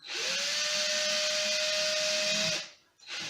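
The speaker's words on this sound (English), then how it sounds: "So cordless drill, be very careful" A cordless drill fitted with a hole cutter whines loudly at a steady high pitch for over two seconds, then spins down and stops, followed by a brief restart.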